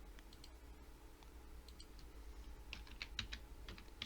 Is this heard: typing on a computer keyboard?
yes